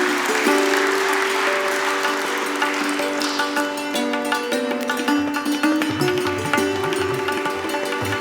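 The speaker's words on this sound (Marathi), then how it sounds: "जोरदार टाळ्या झाल्या पाहिजेत." Loud, sustained clapping from an audience at the inauguration of a college sports building, with steady tonal music or a ringing drone running beneath the clapping throughout.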